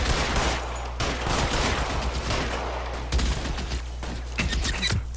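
Dense gunfire erupts in the L.A. Noire video game, a sustained barrage of rapid shots with heavier bursts near the end, loud and continuous throughout with no talk over it.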